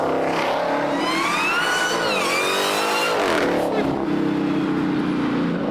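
Supercharged Dodge engine revving hard and loud up close, its pitch climbing and dipping through several strong throttle pulls while people talk over it.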